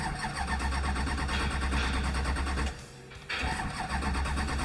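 A Duramax diesel truck engine cranks and fires, running loud and rough, dipping briefly before surging back to a steady rumble.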